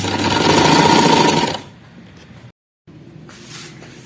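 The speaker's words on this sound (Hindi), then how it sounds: "ये पूरी सिलाई करके मैं आपको दिखाती हूँ" A sewing machine stitches an A-line frock in a loud, steady run for about a second and a half, then stops. Quiet handling sounds and a brief silence follow.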